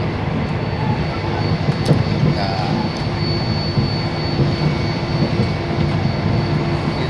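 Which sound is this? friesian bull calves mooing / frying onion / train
train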